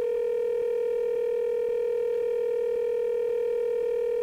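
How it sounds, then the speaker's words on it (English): Steady phone connecting tone in the video game Danganronpa 2, a constant electronic hum with faint regular clicks about every half second, moderately loud and alone with no voices. "it sounds like it's connecting to somewhere. But no one is picking up."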